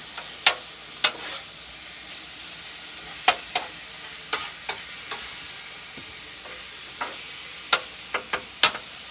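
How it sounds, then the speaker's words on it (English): Meat browning on a flat-top grill gives a steady sizzle, broken by sharp scraping clicks and taps that come in irregular bursts, close and fairly loud, with no talk. "that meat is beginning to brown"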